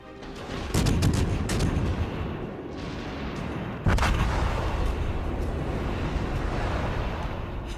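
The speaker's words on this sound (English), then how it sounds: "Stop fucking shooting me." Gunfire in a video game, heavy booming shots with two sharp loud blasts followed by a sustained rumbling barrage of fire, with no talking.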